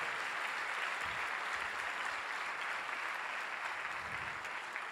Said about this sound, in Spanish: ¿Por qué no le aplaudes al Señor Jesucristo?